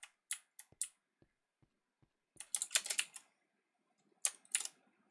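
Typing on a computer keyboard, close and fairly quiet. A few isolated key clicks are followed by a quick burst of rapid keystrokes, then a pause and another short flurry.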